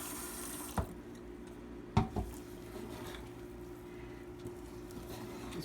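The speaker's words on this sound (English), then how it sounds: "Now we add a little more water." Water runs from a tap into cornbread batter made with self-rising meal and flour, a steady soft pour broken by a few close clinks of a utensil against the bowl.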